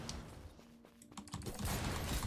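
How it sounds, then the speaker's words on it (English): Explosion effects from the video game The Forge burst loudly with crackling, rapid bangs, swelling into denser blasts toward the end, with no talking over them. "But that explosion's pretty sick."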